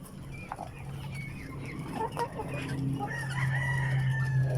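Free-range chickens cluck and cackle steadily in a farm yard while a rooster crows partway through, the calls close and overlapping over a constant low background hum.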